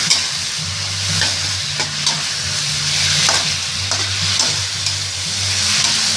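Chinese kale stir-fried in a hot wok with oyster sauce, a steady oil sizzle with repeated scraping stirs of the spatula, close and continuous without talk.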